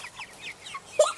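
Chickens clucking in a few short, quick calls close by, followed by a louder single squawk near the end, with no talk.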